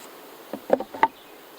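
Honey bees buzz around an open beehive during a first honey harvest, with a few short, close buzzing bursts over a quiet background.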